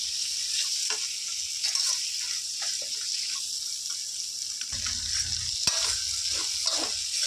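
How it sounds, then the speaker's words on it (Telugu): Okra sizzling in a pan while being stirred, a steady soft frying hiss with light scraping strokes of a spoon against the pan, fairly quiet and close. "ఈ విధంగా ఫ్రై చేసుకొని కొద్దిసేపు గ్యాస్ సిమ్లో పెట్టుకొని ఒక పది నిమిషాలు ఉడికించుకుందాం"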